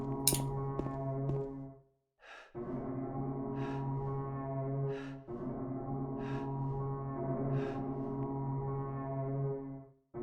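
Long, droning horn-like honks in a video game, loud and sustained, broken by a few short silent gaps and repeating as one continuous sound bite, with no talking.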